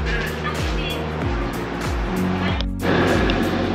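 Sea surf washing onto the shore at a Phetchaburi beach, a steady broad roar of waves with a low rumbling hum throughout and a swell rising toward the end.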